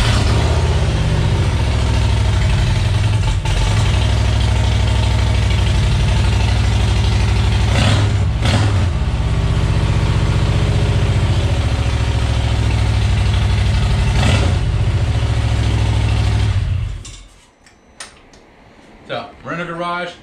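Harley-Davidson Street Glide with Rinehart 4-inch DBX 40 slip-on mufflers and the catalytic converter removed, idling with a loud, steady low rumble, then abruptly shutting off, leaving near silence.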